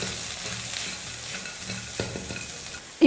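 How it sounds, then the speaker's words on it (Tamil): Egg mixture stirred in a hot frying pan, a steady sizzle with scraping strokes of the utensil and a sharper knock near the end, no voices. "எல்லாத்தையும் சேர்த்து கலந்து விட்டுக்கிறேன்."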